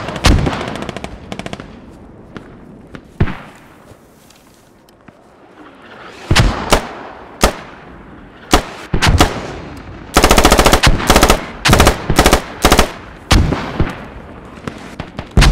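Gunfire and mortar fire erupt in the video game Squad: scattered sharp single shots and booms, then dense rapid bursts of automatic fire, loud and close, with quieter gaps between.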